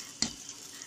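Half-boiled lentils for koshari being stirred, heard as one short scrape of a utensil in the pot over a faint, steady sizzle.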